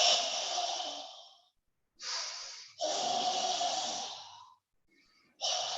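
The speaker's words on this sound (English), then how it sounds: "it is deep breathing from the abdomen, not just shallow breathing" Deep abdominal breaths taken slowly and close up, each long airy inhale or exhale lasting over a second, separated by short pauses, with a fainter breath near the end.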